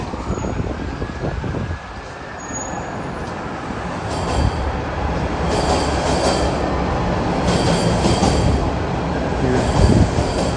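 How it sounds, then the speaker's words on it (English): A subway train rumbles steadily beneath the street as it approaches Dundas station on a wet, foggy night, growing louder, with faint metallic squeals and a low continuous roar. "Subway train approaching Dundas station right below me"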